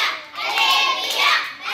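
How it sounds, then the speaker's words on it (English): Children at a seventh birthday party clap their hands in a dense, continuous patter with some cheering mixed in, fairly close and lively throughout. "Everyone else, start clapping your hands and cheering Olivia."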